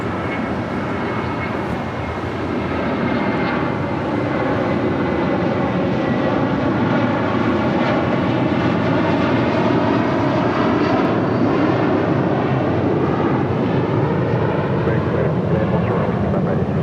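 Delta and Southwest airliners departing from the south side of LAX produce a powerful sustained jet roar that swells slightly after the first few seconds and stays loud, with no clear talk.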